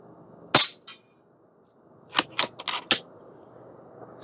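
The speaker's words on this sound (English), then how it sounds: "Let's shoot another couple at that target." A Stoeger XM1 Bullshark .22 PCP airgun fires several sharp shots. One crack sounds first, with a small follow-up, then four quick shots come in close succession after a pause, each short and loud against quiet background.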